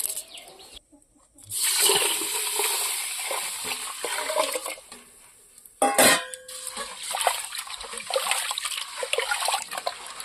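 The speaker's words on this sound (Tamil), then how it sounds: "நல்லா தண்ணியில் கொட்டி கழுவி அரிசி எடுத்துக்கலாம்" Raw white rice being washed by hand in a pot of water, with steady sloshing, swirling and splashing, a brief pause and a sharper splash partway through, recorded close in a home kitchen.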